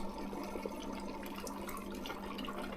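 A reverse osmosis water filter starting up and flushing dirty water through, producing a steady, moderate rushing flow with a constant low hum beneath it and no talking.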